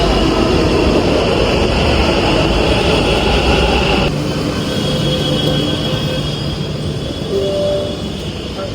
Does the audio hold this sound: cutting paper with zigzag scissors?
no